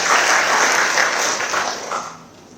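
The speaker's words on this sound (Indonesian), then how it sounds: "Tepuk tangan." Applause from attendees at the opening of an anti-corruption outreach event at a regional inspectorate, a dense burst of clapping that holds steady and then tapers off toward the end.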